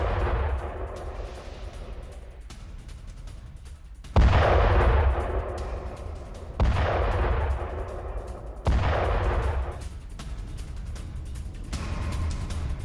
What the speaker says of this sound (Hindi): ये देखिए, अमेरिकी रॉकेट हमले में बोट तबाह।